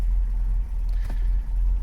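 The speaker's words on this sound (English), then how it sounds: "got the car running" An MG GT car engine idles with a steady low rumble after a battery recharge, close and loud throughout, with no talking.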